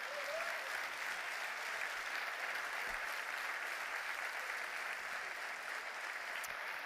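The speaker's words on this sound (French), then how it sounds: "J'aimerais que vous applaudissiez plus fort que ça" Steady, dense applause from a crowd at an awards ceremony honoring people of the year in Béarn, holding at an even level throughout with no talk over it.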